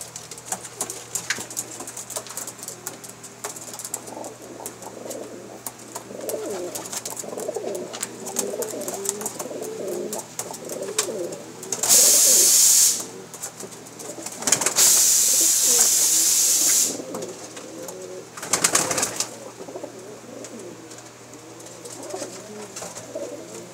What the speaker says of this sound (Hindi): कैसे लगे जी आपको टैडी कबूतर?